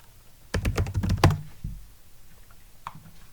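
A quick burst of keystrokes on a computer keyboard types a short command, a close, clattering run of taps lasting under a second. A single faint click follows in a quiet room.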